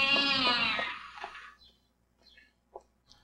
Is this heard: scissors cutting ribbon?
no